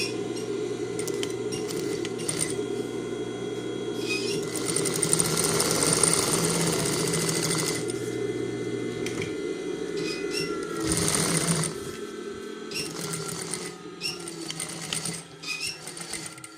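A sewing machine stitching a seam through several folded layers of rain jacket fabric, running in steady mechanical bursts with brief pauses and light metallic clinks, close and clear with no talking.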